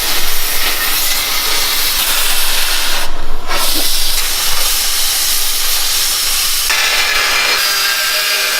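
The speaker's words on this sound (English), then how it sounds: "we're gonna cut the frame on this 2011 Ford Raptor" A steady, loud, hissing cutting noise runs without a break while the frame of a 2011 Ford Raptor truck is cut, with no voices over it.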